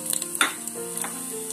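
Cumin seeds and asafoetida hit hot oil in a pressure cooker, crackling in a quick burst of sharp pops that settles into a softer, close sizzle.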